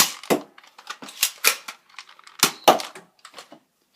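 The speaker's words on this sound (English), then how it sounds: "So as you can see, it can shoot all of the current Nerf darts except for the discs for the Vortex guns" Nerf Maverick blaster firing streamline foam darts, a quick series of sharp, close snapping pops with clicks of the cylinder between shots, irregular in rhythm and standing alone without talk.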